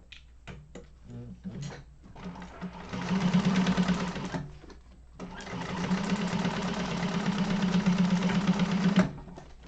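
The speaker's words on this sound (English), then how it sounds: "making sure you're only sewing through what you want to sew" A domestic sewing machine stitches fabric for a Yoshi Sling bag in two long, steady runs of rapid, close mechanical clatter, with brief pauses and some soft talk between the bursts.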